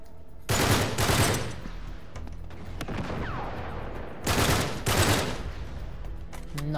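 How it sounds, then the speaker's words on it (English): Bursts of automatic gunfire in the video game Uncharted 3 come in two loud rapid volleys, separated by quieter scattered shots and ambient game noise. "Bro, who's shooting?"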